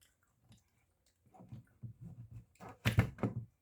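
Original-flavour Pringles potato chips crunched close up: faint soft bites at first, then a few louder crisp crunches near the end, with no talking.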